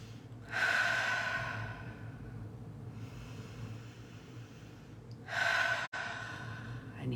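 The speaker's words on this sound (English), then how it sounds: "So a couple of nice deep breaths." Two slow, deep breaths taken close by, each a long airy rush of inhaling and exhaling, separated by a few seconds of quiet room tone, with no talking.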